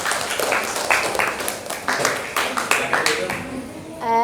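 Students clapping after a class group presentation at a high school, a moderately sized group with audible individual claps mixed with some voices, ending with a short ringing tone.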